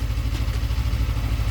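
A stock Suzuki GSX250R motorcycle idles steadily up close, a low, even, rapidly pulsing engine throb that is fairly quiet, with no talk.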